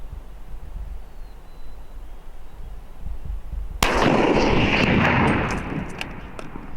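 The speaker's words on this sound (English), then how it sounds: "I squeezed the trigger." Single rifle shot fired while hunting bear in Alaska, one sharp loud crack that breaks a quiet outdoor background, followed by a brief rolling echo.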